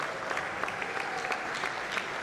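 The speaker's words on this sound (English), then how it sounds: "give a round of applause to the keynote speaker" A crowd at a graduate members' induction and oath-taking ceremony claps steadily for the keynote speaker, a full, continuous round of applause filling the room.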